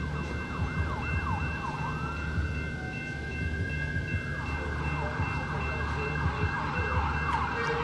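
Ambulance siren wailing steadily near railroad tracks, its pitch sweeping up and down while a rushing roar of passing traffic or a train runs underneath for the whole stretch, loud and close.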